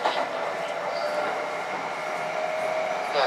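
A Kintetsu express train bound for Ujiyamada runs steadily, giving a loud continuous rolling roar with a faint whining tone and light wheel rattle, heard from inside the train.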